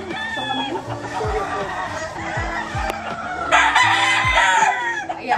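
Chickens cluck and a rooster crows in a breeding pen, several birds calling close by in overlapping bursts and crows, with a person talking over them.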